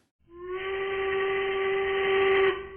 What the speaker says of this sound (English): You knew what time it was by the whistle blowing.